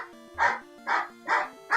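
A pet dog barks at the door during a Pokémon Red playthrough, four sharp barks spaced evenly about half a second apart, loud and close over quiet game music.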